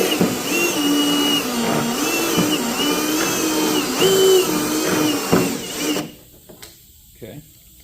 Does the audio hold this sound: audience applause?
no